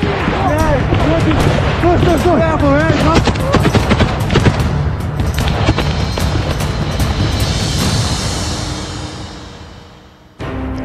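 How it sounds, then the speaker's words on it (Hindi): Rapid bursts of machine gun fire in Bakhmut war footage, loud and dense for most of the stretch with scattered louder shots and booms, tapering off near the end. "रूस के वैगनर लड़ाकों ने सीक्रेट लोकेशंस पर छुपे यूक्रेन के सैनिकों को मशीन गन से फायरिंग कर छलनी कर दिया है"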